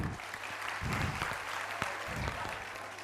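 Enthusiastic applause from a school annual function audience for 7th and 8th grade students, a continuous dense crackle of many hands with faint crowd murmur and low thumps beneath, steady for the whole stretch.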